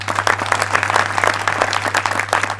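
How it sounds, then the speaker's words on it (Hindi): Sustained clapping from a gathered audience at a Republic Day celebration, honouring the tricolour flag, dense and steady across the whole stretch over a constant low electrical hum. "तो आइए एक बार हाथ खोलकर जोरदार तालियां बजा दीजिए हमारे इस तिरंगे के सम्मान में"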